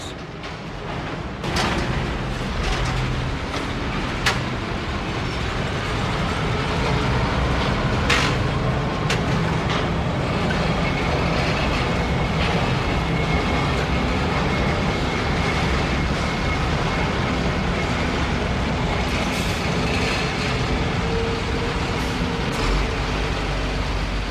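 A freight train rolls steadily along the rails, a continuous broad rumble with wheel and track noise holding at a constant loud level throughout, with no talking.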